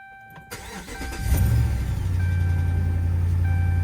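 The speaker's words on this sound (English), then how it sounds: "Before auto scan, please start the engine." A car engine cranks and catches after a short quiet pause, then settles into a steady low idle with a faint electronic tone above it, loud and close with no speech.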